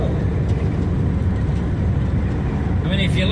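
An early Ford Zephyr MKIV with a V4 engine and balance shaft drones steadily while driving, a smooth, continuous low rumble from inside the car, loud and unbroken throughout.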